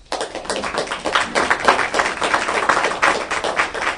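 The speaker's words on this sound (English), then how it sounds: "Please give them a round of applause" An audience at a school district board of education meeting claps for four newly welcomed administrators, a dense, steady round of applause from a modest crowd, close and continuous throughout.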